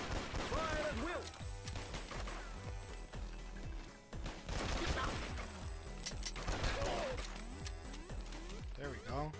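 Gunfire from the action video game Not a Hero, rapid shots and bursts crackling in a busy, dense mix alongside game music and effects, with someone talking over it.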